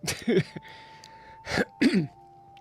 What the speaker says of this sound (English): I'm that old dude that coughs.